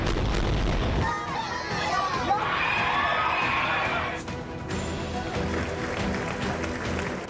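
Members of the US Congress applaud Netanyahu in a broadcast news report, heard as a dense, sustained roar of clapping and cheering from a large chamber crowd that starts after a brief loud opening and continues to the end.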